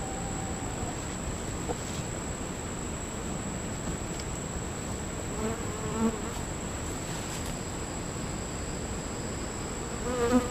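Honeybees drone steadily around an open hive, a dense, continuous buzzing close by, with a faint high whine running beneath the swarm and no voices.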